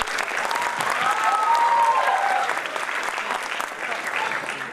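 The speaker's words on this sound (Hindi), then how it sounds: "अरे तालियां यार" An audience at the IFFI film festival in Goa, inside a theatre hall, applauds the arrival of film guests. Broad, sustained clapping rises and then eases slightly, with faint voices and whoops mixed in.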